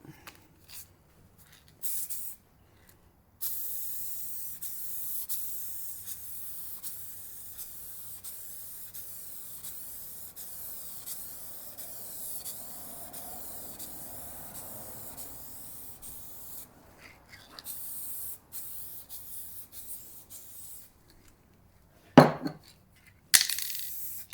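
Spray paint can laying a coat on vinyl, long close hissing bursts of spray separated by short pauses, with clicks and handling noises near the end and no talking.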